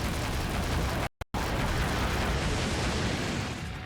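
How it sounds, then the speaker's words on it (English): A video game explosion, a sustained loud roaring blast of broadband noise lasting several seconds, with a brief cutout near the start and a slight fade at the end. "Explosion."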